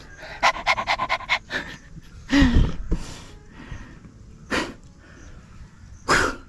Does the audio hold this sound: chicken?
no